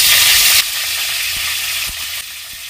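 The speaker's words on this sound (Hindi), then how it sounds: "इसे हम मीडियम फ्लेम पर 1 से 2 मिनट तक हल्के से भून लेते हैं" Red amaranth (lal saag) stems are frying in hot oil in a pan. A loud broadband hiss fills the first half second and then settles to a steady, softer sizzle, with a few faint knocks.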